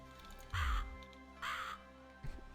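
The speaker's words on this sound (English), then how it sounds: "Nice crow sound." Two harsh raven caws in the video game Not For Broadcast, loud and close, each lasting about a quarter second with a short gap between, followed by a faint low thud.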